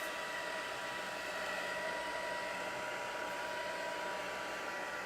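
A heat tool dries ink over embossing powder on a craft card, a steady whooshing blower hum held at an even level for a few seconds, fairly quiet and with no speech.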